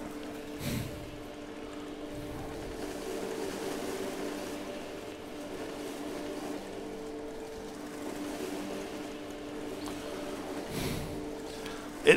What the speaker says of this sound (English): It is the world's fastest lawn tractor